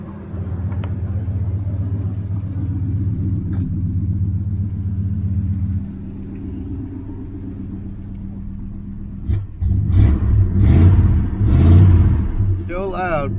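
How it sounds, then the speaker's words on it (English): A 1976 Camaro engine idling through a newly fitted muffler, a steady low rumbling exhaust that dips briefly then swells again, with someone talking over it near the end. "it sounds a lot better than straight exhaust"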